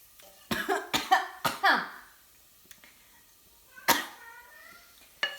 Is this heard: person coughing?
yes